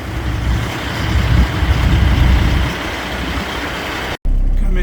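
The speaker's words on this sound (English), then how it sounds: "See, they're unloading some trucks over there already." Grain trucks unload at a harvest elevator pit, a steady low engine rumble and hum with some swelling in the middle, cut briefly near the end before resuming.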